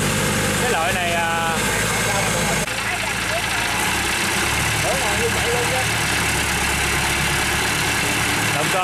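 A roughly 90-horsepower motorcycle engine idles with a steady, rumbling drone that is loud and close. A brief revving swell comes near the start, and the engine continues under the noise.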